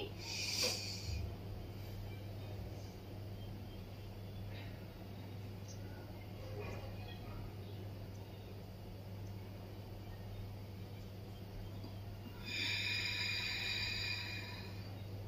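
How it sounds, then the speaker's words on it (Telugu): During a face yoga exercise, a person draws a deep breath in through the nose. The airy intakes are soft and close, with brief hissing bursts at the start and again near the end, over a quiet room. "ముక్కుతో శ్వాస తీసుకుంటూ మీ నోటిని కూడా శ్వాసతో నింపేసి"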